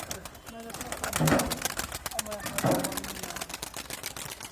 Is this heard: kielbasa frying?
no